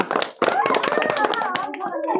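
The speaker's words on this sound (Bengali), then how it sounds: "হাততালি দাও সুন্দর করে একটা।" Bare hands clap a few times in sharp bursts during a children's ring-toss game, heard close and mixed with a voice and adult talk.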